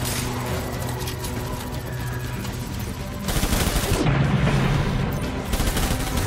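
Gunfire in the video game Death Stranding during a fight with a chiral tornado: dense, continuous rapid shots over a loud roaring bed that swells midway, with no talking.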